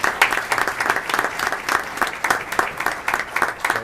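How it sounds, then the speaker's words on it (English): Audience at a Linden city freeholder meeting applauding an award recipient, a steady round of clapping in a pulsing, slightly rhythmic pattern, moderately loud and sustained for about four seconds. "So please, a quick round of applause for Freeholder Wright."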